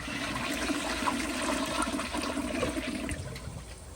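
A 1994 elongated Kohler Wellworth Lite toilet flushes close by with a steady rushing, gurgling wash of water that holds through the whole stretch. No voices are heard.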